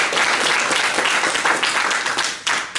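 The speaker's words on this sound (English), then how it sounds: "So give a round of applause for Derek." An audience at a protest-to-policy panel event bursts into dense, sustained applause, loud and continuous from start to finish with no talking.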